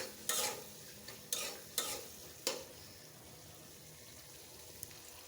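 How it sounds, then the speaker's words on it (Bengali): Beef tripe frying in a blackened oil wok, a steady hiss of sizzling oil broken by four sharp scraping strokes of a spatula stirring, then settling into an even, close sizzle. "এখন ভেজে নেব।"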